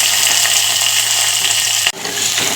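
Crushed shallots, garlic and ginger sautéing in hot oil for rasam, a loud continuous sizzle with a brief stir-induced dip near the end, no voices.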